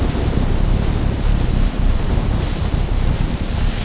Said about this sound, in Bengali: প্রবল ঝড় শুরু হলো।